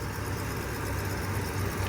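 A 1961 Lincoln Continental hardtop's engine idles, a steady low rumble that holds evenly without revving, heard from a short distance with no talking over it.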